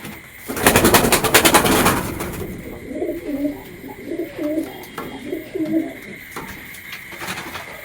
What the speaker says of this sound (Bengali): প্রতিটা পায়রা সব ধুরন্ধর